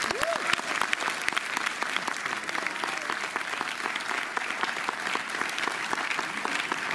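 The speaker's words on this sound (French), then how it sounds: "je vous demande d'applaudir chaleureusement Jérémy Perrin" A festival audience in Montreuil applauds warmly for the director of Mars Express, a dense steady clapping from a full room lasting throughout, with a faint voice or two underneath.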